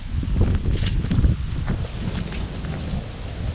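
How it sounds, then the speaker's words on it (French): Strong wind blusters across the microphone outdoors beside a bamboo-lined bike path, with a loud rumbling gust early on that eases into a steadier, softer rush. "Ah, ce vent."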